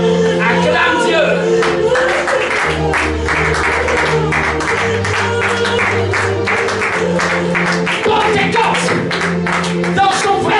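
Church congregation at a Pentecost Sunday service clapping in steady rhythm, a continuous run of claps over music and voices.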